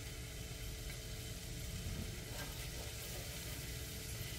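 Onions and garlic simmer in melted butter in a pan, a steady, even hiss of sizzling that holds without a break.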